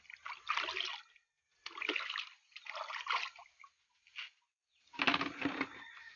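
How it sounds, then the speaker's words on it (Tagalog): Dissolved liquid poured onto rice straw for a mushroom growing substrate, heard as several separate bursts of splashing and trickling with short silent gaps, near and moderately quiet. "Pag natunaw na, ibubuhos nyo lang po."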